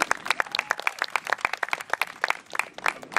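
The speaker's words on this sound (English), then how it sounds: "So let's give her a round of applause." A small audience applauds for Maureen Dorr, with brisk, fairly close clapping from a modest group that keeps going steadily for a few seconds.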